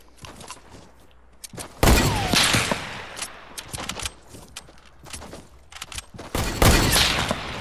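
Gunfire in the battle royale game Fortnite: scattered single shots and two loud bursts of rapid fire, with sharp cracks standing out close and clear against quieter game ambience.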